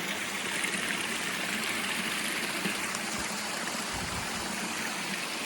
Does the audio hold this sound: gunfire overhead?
no